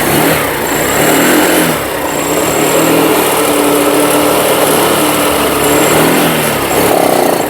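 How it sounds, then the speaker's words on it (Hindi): Honda Activa 6G scooter engine starting after a discharged battery was jump-started with a second battery, giving a continuous buzzing, revving engine sound close by with no talk. "और चलिए अब गाड़ी को स्टार्ट करके देखते हैं कि पूरे प्रॉब्लम सॉल्व हो गए क्या।"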